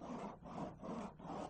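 Four rhythmic rasping strokes of a cheese-grater file scraping across partly cured auto body filler, even and steady, close but quiet.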